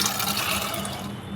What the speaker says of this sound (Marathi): जे चण्यामध्ये पाणी आहे ते पूर्णपणे मी घालत आहे